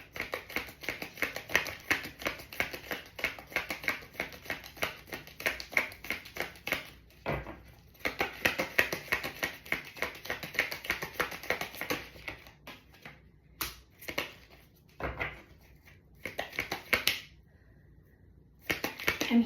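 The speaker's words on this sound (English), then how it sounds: "From now on, I'm going to be shuffling." Tarot cards are shuffled by hand in soft, rapid bursts of crisp clicking patter, broken by brief pauses. The sound is quiet and close, with no speech.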